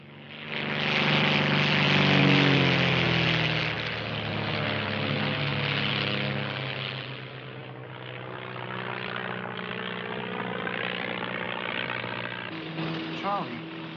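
A propeller airplane running low on fuel drones steadily overhead, its engine loud and sustained with a slowly shifting pitch, while a voice speaks over it at times.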